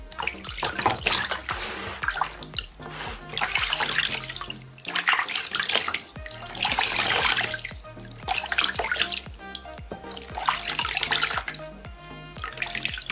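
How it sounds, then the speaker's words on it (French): Running water pours steadily as feet are rinsed under a tap, a continuous near splashing wash with uneven surges and drips, no voices. "Vous allez rincer vos pieds simplement avec un gel neutre."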